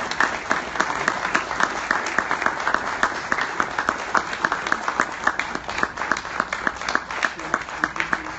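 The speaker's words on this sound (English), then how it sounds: "They deserve a round of applause." A crowd at an outdoor Irish fair kick-off gives a round of applause, with many hands clapping briskly and continuously at a moderate distance, and a few voices mixed in underneath.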